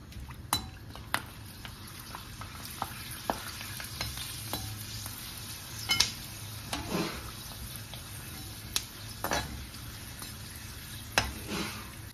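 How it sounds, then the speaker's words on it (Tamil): Hot oil sizzles and crackles steadily as sun-dried cluster beans deep-fry, with occasional clinks of a utensil against the pan; no one speaks. "கொஞ்சம் கொஞ்சமாக போட்டு நம்ம பொரிக்கலாம்."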